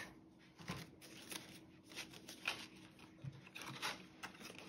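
Paper cash bills pulled and shuffled out of a budget envelope, a close, quiet run of papery rustles and flicks with no talking.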